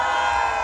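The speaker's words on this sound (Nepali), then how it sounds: "एकपल्ट जोरदार ताली हजुर सबैको लागि" Crowd at an open-air Nepali music concert in the UK cheering and shouting in a steady, loud wash of voices that carries through the short stretch.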